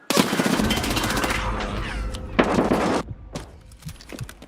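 Automatic gunfire in Escape from Tarkov: a long, loud burst of rapid shots, a pause, then a second shorter burst and a couple of scattered single shots trailing off.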